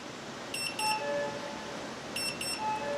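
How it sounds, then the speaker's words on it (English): An Inkbird thermometer alarm next to a smoker sounds two bursts of rapid paired high beeps about a second and a half apart, moderately loud over low background noise, with a few softer tones between them. "It's my thermometer going off because it got too cool in the smoker."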